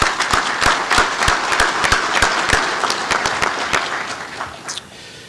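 A convention audience applauding, dense close clapping from many hands that holds steady and then thins and fades toward the end.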